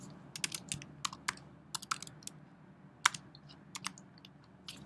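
Fingers tap out a name on a computer keyboard, a quiet, uneven patter of crisp key clicks close by, with no talking.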